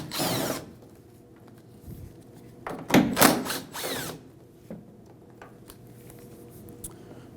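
A power tool spins out two 8mm bolts on the inside of an opened 2009-2014 Ford F-150 tailgate during tail light removal, with short whirring bursts separated by quiet gaps and a few clunks.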